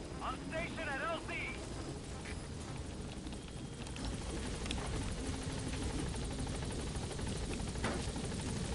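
Support helicopter arriving at a landing zone in the Metal Gear Solid V video game, its rotor thrum a steady mid-level drone under game radio chatter and brief chirping effects.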